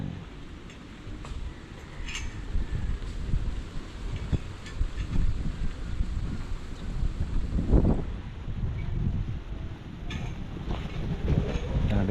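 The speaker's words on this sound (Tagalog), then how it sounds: "Grabe talaga ang lakas po ng hangin." Strong wind buffets the microphone in a steady low roar, rising in gusts with a loud burst near the middle.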